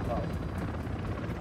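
Chopper gunner helicopter in Call of Duty: Modern Warfare II, a steady rotor drone and engine rumble filling the whole short stretch, with talk mixed over it.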